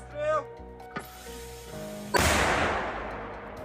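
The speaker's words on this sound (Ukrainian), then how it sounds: "Постріл!" A single sharp blast rings out, then a long rumbling roar decays, after quieter tones and a brief click beforehand.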